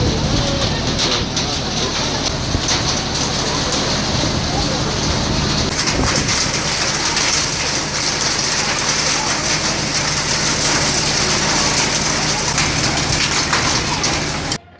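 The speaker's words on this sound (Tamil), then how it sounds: "சூறைக்காற்றுடன் ஆலங்கட்டி மழை கொட்டியது" A hailstorm with strong wind roars continuously in Ariyalur, Tamil Nadu, a loud dense wash of pelting and gusting that stays steady throughout before cutting off at the end.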